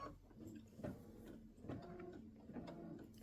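An embroidery machine sews brown stitching around the inside of football shapes on a turkey appliqué quilt block. It makes a close, steady mechanical whir with regular clunks from the needle, and no one speaks.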